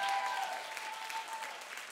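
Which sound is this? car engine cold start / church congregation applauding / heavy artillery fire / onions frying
church congregation applauding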